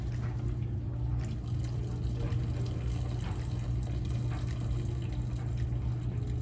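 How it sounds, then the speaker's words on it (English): Water pours steadily off soaked sweet potato fries in a kitchen, a continuous splashing trickle at moderate distance with faint irregular spatters and no talking. "let me pour the rest of this water off of them"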